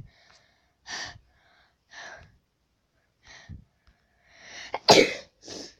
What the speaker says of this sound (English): Oh, sorry guys, sneezes.